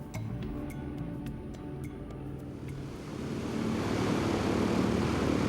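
A Lockheed Constellation propeller airliner drones steadily and grows louder and rougher as it passes, with a few sharp ticks early on.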